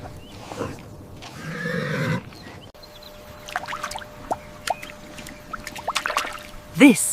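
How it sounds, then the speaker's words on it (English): A pony whinnies near the end, a sharp descending neigh standing out after a stretch of mixed animal calls, rustling and faint background noise. "This is a pony."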